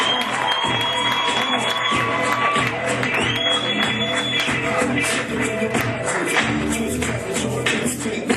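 An audience at a comedy show in a cinema theater applauds and cheers, a steady wash of clapping with scattered whoops that holds for several seconds, with voices mixed in.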